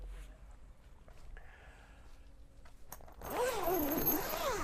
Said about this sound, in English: Really nice and simple to attach, just zips on to the Passion at the front here.